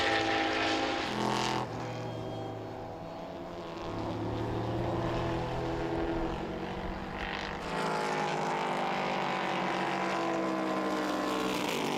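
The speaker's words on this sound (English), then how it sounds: "when it comes to the minis, you'll always notice the whining sound as they go by" Mini race cars at the Slovakia Ring during an endurance race, passing with a steady high-pitched whine under a loud engine drone, the tone shifting as each car goes by.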